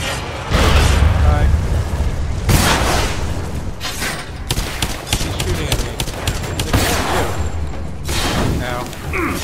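Gunfire in the co-op game Lara Croft and the Temple of Osiris, loud repeated shots and impacts in quick bursts, with rumbling effects and a heavy booming hit at the start.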